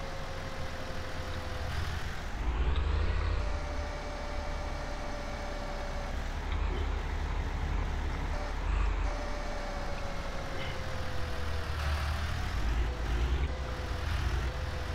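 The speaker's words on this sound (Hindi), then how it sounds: "आवाज़ अच्छी है ट्रैक्टर की, मुझे तो आवाज़ इसकी बहुत पसंद आई।" A tractor engine drones steadily in Farming Simulator 19, running at full speed with a continuous loud hum and slight pitch shifts as it revs, heard alone without talk.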